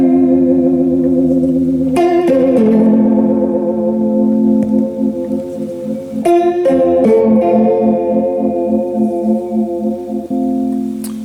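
Guitar chords played through the vibrato effect of a Digitech RP200 multi-effects unit ring out loud and wavering, struck a few times and left to sustain with a pitch wobble.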